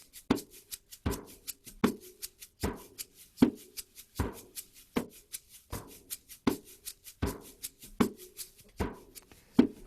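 Hand shaker played in a steady doubled rhythm at a children's drumming program, crisp paired shakes repeating evenly and close-up with no talking.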